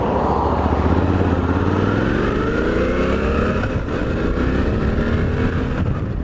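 Suzuki V-Strom 800DE motorcycle riding with a steady engine drone, rising in pitch as it accelerates and dropping with each gear change, loud and close under wind noise.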